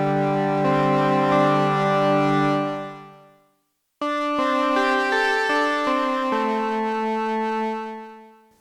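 A Cherry Audio Memorymode synth uses additive synthesis with oscillators set an octave apart, giving rich sustained tones. A held chord fades out, then a run of separate notes follows, moderately loud and alone.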